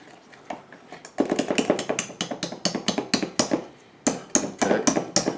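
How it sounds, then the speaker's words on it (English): A hand whisk beats apple coffee cake muffin batter in a bowl, sounding as a fast run of close, sharp clicking taps against the bowl, a short pause, then another burst of rapid strokes. "I'm going to stir, mix in well. The batter is nice and smooth."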